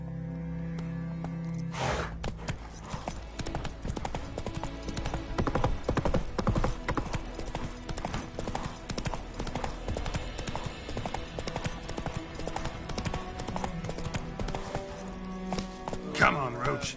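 The horse Roach galloping in The Witcher 3: Wild Hunt, rapid rhythmic hoofbeats that run steadily for the whole stretch, with game music and a voice over them.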